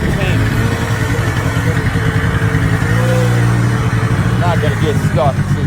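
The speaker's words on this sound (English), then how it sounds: "Driving this quad and this stuff." A quad ATV engine drones steadily while the machine drives off-road through moose country, the motor loud and continuous, with someone talking over it.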